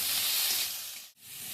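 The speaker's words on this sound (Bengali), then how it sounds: "এবার আমি সবগুলোকে ভালো করে ভেজে নিচ্ছি" Two tomatoes and other ingredients fry in a pan with a close, bright hiss that runs steadily and then dips briefly before resuming.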